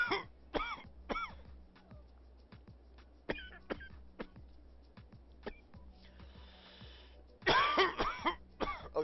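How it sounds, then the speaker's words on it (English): A person coughs and clears their throat in a series of sharp bursts, some single and some in quick clusters, with a heavier coughing fit near the end, close to the microphone. "Don't mean to be coughing in your ears."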